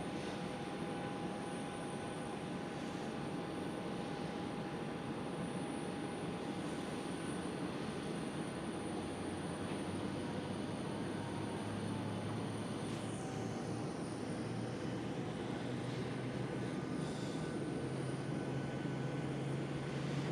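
A Qatar Airways cargo jet at Schiphol gives off a steady, moderately distant engine rumble and hiss, with a faint high whine holding constant throughout.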